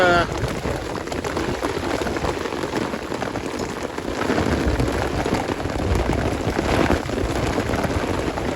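Heavy storm rain pounds steadily at a campsite, a loud, dense patter on nearby surfaces that swells slightly partway through and never lets up.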